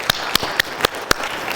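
A handful of sharp, separate claps from a church congregation, spaced about a quarter second apart, sparse and fairly near, without a full crowd roar.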